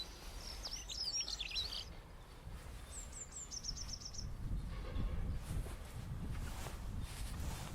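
A dunnock sings two short, quick warbling phrases, faint and distant, over a low outdoor rumble.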